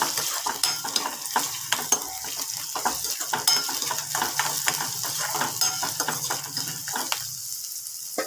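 Spices frying in a pan over full flame while being stirred, a close sizzle broken by repeated scraping and clinking of the spoon against the pan, no talking.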